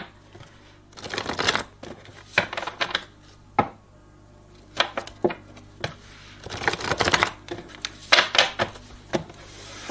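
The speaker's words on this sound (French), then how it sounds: "je vais faire un tableau à 9 cartes, Michael." Tarot cards are shuffled and laid out one by one into a nine-card spread, giving crisp riffling bursts and sharp slaps and flicks on a table, close and clear with short pauses between.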